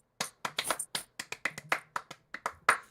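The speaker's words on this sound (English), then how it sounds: "Please stop clapping, please." Sharp, bright hand claps in an irregular burst, close and loud, some in quick doubles, with no talking over them.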